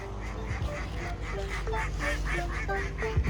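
Ducks honk repeatedly in a loose rhythm, close and clear over a low rumbling background.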